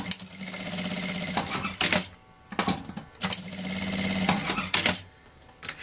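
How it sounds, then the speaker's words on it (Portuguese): A sewing machine stitches the edges of a cloth bag strap in two loud, steady runs of rapid whirring, each broken by short clicks and pauses as the fabric is repositioned. "Uma costurinha na beiradinha de cá e uma costurinha na beiradinha de lá."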